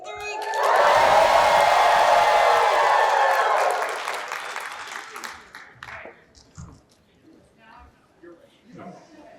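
Convention panel audience at FanX cheering, whooping and applauding on cue, a loud swelling roar that holds for a few seconds then fades into scattered claps and voices.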